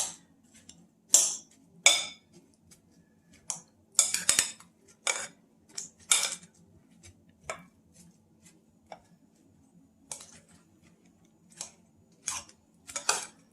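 A utensil clinks and scrapes against a dish while keto bread pudding is mixed, in irregular sharp taps and clacks separated by quiet pauses, close and fairly soft with no talking.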